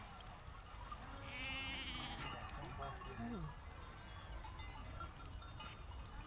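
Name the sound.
sheep bleating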